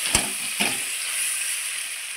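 Malabar spinach stems and leaves drop into mustard masala in a hot pan, two quick thuds followed by a steady, close hiss of frying.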